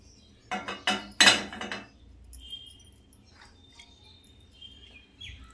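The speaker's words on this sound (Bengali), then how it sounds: "প্রেসার কুকারের মধ্যে দিয়ে দেবো মটরটা" Peas tipped into a metal pressure cooker make a short, bright clatter of rattling and clinking against the pot, then fade into a quiet room with faint bird chirps.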